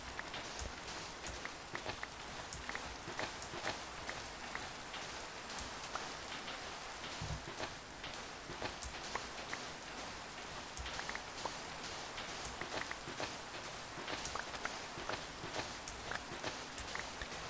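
Steady rain falls in the video game Minecraft, a continuous broadband patter with dense scattered droplet ticks that hold an even level throughout, with no voice over it.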